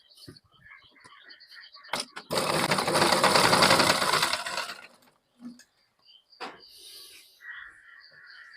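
Sewing machine stitching a thread line along the centre of a blouse lining, one loud continuous run of about two and a half seconds between quieter handling noises and brief clicks.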